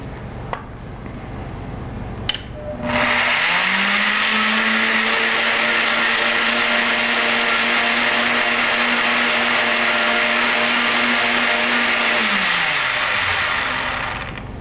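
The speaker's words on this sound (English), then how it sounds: "I'm going to turn on the blender, and I want to make sure this is well blended before I add the oil." A kitchen blender mixes salad dressing ingredients, whirring up to a loud, steady high-speed whine held for about ten seconds before spinning down, with clicks just before it starts.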